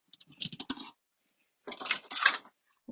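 Card stock being cut by hand for card making, with two short bursts of crisp snipping and scraping, close and fairly quiet, separated by a pause.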